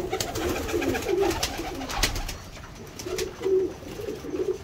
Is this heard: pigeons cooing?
yes